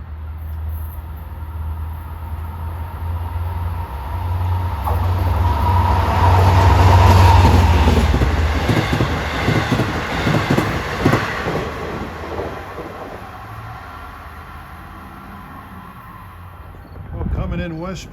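LIRR train 658, bound from Hunters Point Avenue to Port Jefferson with locomotive 521 leading, rushes closer on triple track, its deep rumble building to a loud peak with rhythmic clatter of wheels, then easing off.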